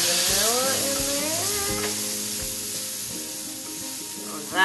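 Macadamia nuts frying in butter in a pan give a steady close sizzle with faint stirring scrapes, under a bright harmonic tone that rises and falls through the first seconds.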